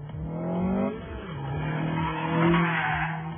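An Ariel Atom, a road-legal open sports car with a Formula 1 feel, is driven hard, with its engine revving and tires squealing in long skids, loud and close.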